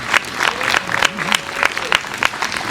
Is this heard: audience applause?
yes